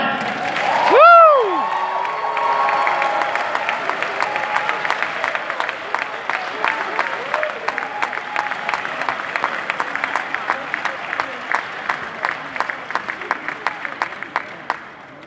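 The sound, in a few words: graduation audience applause and cheering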